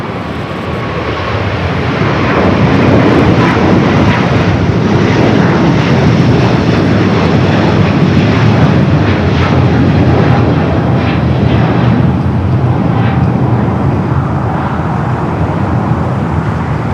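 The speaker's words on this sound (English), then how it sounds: "Japan Airlines, the flight heading to Tokyo Haneda, A350 1000 rolling down to 25 right" A Japan Airlines Airbus A350-1000 rolls down runway 25 right at Los Angeles airport on its takeoff run, its jet engines a loud, broad, sustained roar that swells early and holds steady, with faint road traffic beneath.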